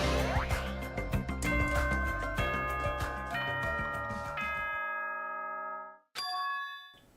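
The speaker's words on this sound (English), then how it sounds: "Was that a school bell just now?" A school bell chime from the video game Danganronpa 2 rings as a series of clear metallic dings that build into a ringing chord and fade into a long decay, with a short clanging tone after a brief break.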